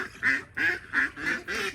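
A flock of loud ducks, with a chicken nearby, quacks in five rhythmic bursts about a third of a second apart, close and insistent, with no talking over them.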